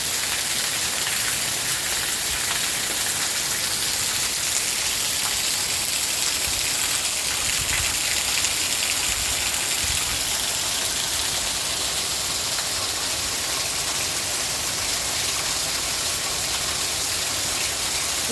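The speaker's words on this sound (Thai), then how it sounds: "ไม่ไม่มีลมไม่มีเสียงฟ้าร้องฝนเทลงอย่างเดียวค่ะ" Heavy rain pours steadily at dawn in a dense, unbroken hiss, drumming on surfaces with no wind, gusts or thunder, in Buriram, Thailand.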